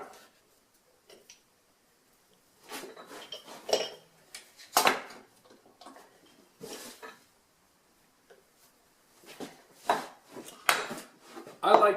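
A chisel trimming wood to a baseline on a saw bench board in a hand-tool woodshop, giving scattered sharp taps and scraping cuts in irregular bursts separated by quiet pauses.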